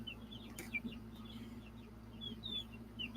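Chicken clucking in short, faint calls scattered through a quiet room with a low steady hum beneath, no one speaking.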